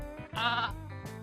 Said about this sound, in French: On dit que le mouton bêle.